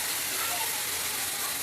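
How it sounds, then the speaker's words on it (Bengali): Vegetables go into a hot pan with fried onion and garlic, giving a steady, close, bright sizzling hiss throughout the short moment. "এখন আমি সবজিগুলো দিয়ে দিব।"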